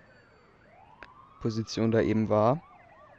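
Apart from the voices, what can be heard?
police sirens in the video game GTA2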